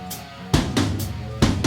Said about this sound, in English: Can we have just drums for this part, please?